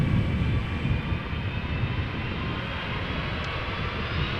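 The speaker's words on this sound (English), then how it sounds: "it is pulling up already, turn and burn for the A330 by the sound of it" An Airbus A330-300 airliner climbs out after takeoff from Amsterdam Schiphol Airport, giving a steady broad jet roar that holds at an even, fairly loud level throughout, with no talk over it.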